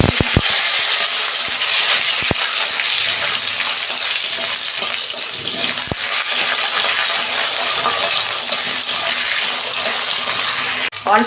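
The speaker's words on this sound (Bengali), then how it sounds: "দু মিনিট আলুগুলো আমি ভেজে নেব।" Potatoes with a pinch of salt fry in oil over a tempering of bay leaves, dried chilli and cumin, giving a loud, dense, unbroken sizzle with occasional sharp clinks of a utensil on the pan.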